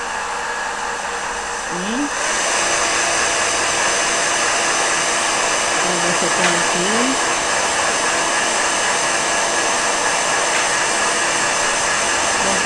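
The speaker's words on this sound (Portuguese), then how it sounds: "Eu vou secar aqui com secador." A hair dryer blows steadily and loudly for most of the clip, a constant whooshing roar after a brief quieter start, with a faint voice underneath.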